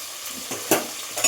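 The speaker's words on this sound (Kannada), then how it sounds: "ಎಲ್ಲ ಮೆಂತ್ಯ ಸೊಪ್ಪನ್ನ ಹಾಕಿ ಒಂದ್ಸರಿ ಬಾಡಿಸ್ಕೊಂಡ್ಬಿಡ್ತೀನಿ ಸೊಪ್ಪೆಲ್ಲನೂ ಎಣ್ಣೆಯಲ್ಲಿ ಬಾಡಿಸೋದ್ರಿಂದ ಬೇಗ ಕಹಿ ಬರಲ್ಲ" Fenugreek leaves sautéing in hot oil give a steady close sizzle. Brief stirring scrapes cut through at a few points, and no one speaks.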